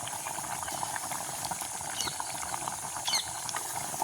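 A pot boiling over an outdoor fire during village cooking, a faint continuous bubbling and gurgling hiss with soft pops, steady and fairly quiet.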